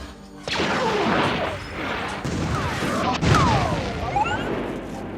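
A Star Wars film sound-effects mix: dense layered spaceship whooshes, blasts and laser-like shots sweep and overlap continuously, loud and busy, with a sharp impact near the middle.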